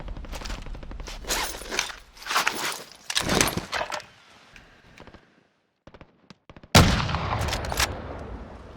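Sniper fire in Call of Duty: Warzone: several sharp, loud shot bursts spread across the stretch, with a quiet gap before a heavy final crack and its echoing tail.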